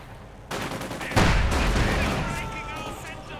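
A StuG assault gun firing in Company of Heroes 2 during a 2v2 match, a sudden heavy boom followed by a second louder blast and rumbling battle noise, with a commentator talking over it.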